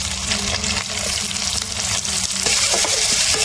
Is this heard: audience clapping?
no